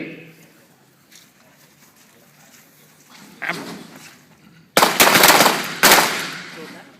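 Handgun shots ring out at a self-defense shooting practice range. After quieter shuffling and background voices, two loud, sharp, close shots crack about a second apart, each followed by a brief ringing tail.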